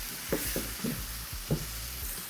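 Aromatics with habanero, salt and black pepper softly sautéing in a pan, a faint, steady sizzle with a few soft clicks from stirring and no talking.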